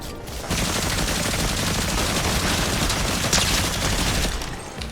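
Dense, rapid gunfire from a mammoth pistol in the Fortnite video game, loud and close, with sustained overlapping shots and no talk.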